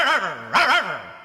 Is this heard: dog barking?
yes